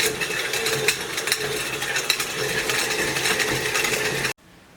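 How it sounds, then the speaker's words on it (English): Electric mixer running on low speed, creaming a cup of butter for peanut butter cookies, a continuous whirring hum with small rattles that cuts off abruptly near the end. "now I'm going to start this mixer on a low speed and start this to creaming"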